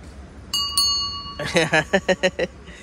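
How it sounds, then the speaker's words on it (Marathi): A temple bell at a Datta temple rings with a clear, sustained metallic tone, then a voice speaks a few quick syllables while the ring fades. "घंटी वाजव."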